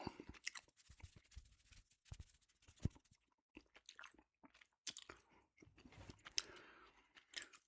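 Gum being chewed close to the microphone in a quiet ASMR setting, with soft wet smacks and squishy crunches in irregular bursts separated by near-silent pauses, and no talking.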